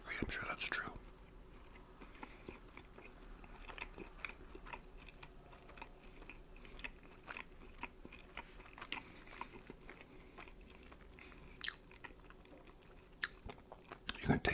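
Close, quiet chewing and crunching of pizza in a whispered ASMR setting, with soft bites and mouth sounds running steadily and a faint voice in the background.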